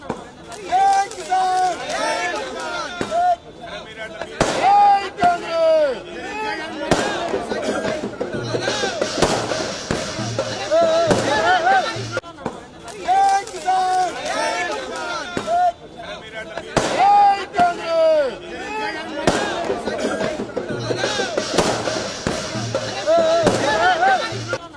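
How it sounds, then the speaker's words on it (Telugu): Firecrackers set off by party workers at a street celebration in Telangana, popping in sharp bursts amid a noisy crowd and processional sounds, with constant chatter and shouting throughout. "టపాసులు కాల్చి వేడుకలు చేసుకున్నారు కార్యకర్తలు."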